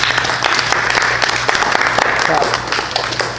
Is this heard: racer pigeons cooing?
no